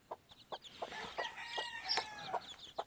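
Gamefowl hens with young chicks in a farm pen give soft, repeated clucks and faint distant crowing, a quiet rhythmic series of short calls.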